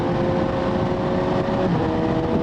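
A Suzuki GSX-S750Z motorcycle with a Translogic quickshifter runs steadily at speed, its engine drone and wind noise continuous and loud, with a smooth gear change that causes no noticeable break in the sound.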